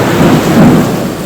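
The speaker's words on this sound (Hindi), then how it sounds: "बारिश के साथ साथ आसमान में बिजली कड़कने की आवाज भी सुनाई दी।" Thunder rumbles through a rainstorm: a brief, loud, low roll over the steady wash of falling rain.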